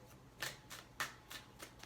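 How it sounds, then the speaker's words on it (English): Tarot cards are shuffled by hand at close range, giving soft riffling bursts that come in a loose rhythm and stay quiet throughout. "We're just going to get some good shuffles in."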